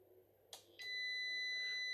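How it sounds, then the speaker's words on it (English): An APC Back-UPS 700 with a faulty battery runs its self-test, giving a couple of short beeps before settling into a continuous high-pitched alarm tone that holds steady to the end. "And then goes into an alarm state,"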